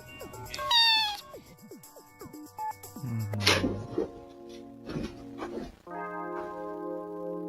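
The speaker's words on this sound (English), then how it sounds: "He only had enough battery for 2 meows." Cat meowing, two distinct meows with a short high call early on, fairly close, amid some background sounds and no speech.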